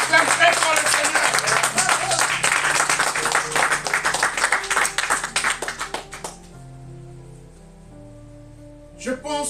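A church congregation claps loudly and rhythmically in praise of the Lord, the dense sharp claps mixed with music, before fading into a held organ-like tone with a brief burst of claps at the very end.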